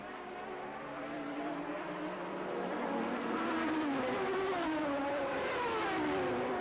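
Courage Judd prototype and other race cars at ELMS Monza, engines climbing in pitch as they pass, a steady loud roar with rising and falling whines stacked over one another, no voices.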